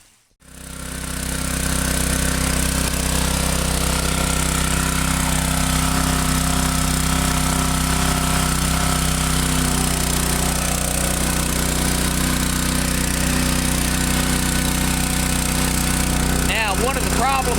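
A petrol garden water pump engine runs at high speed on choke, a loud, unbroken mechanical drone that starts almost immediately and holds steady to the end.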